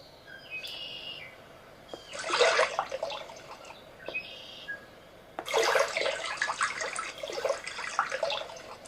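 Bubbling, splashing water and chirpy effects from the Fish Pond app on an iPad, coming in two loud bursts with quieter stretches between, heard close and alone.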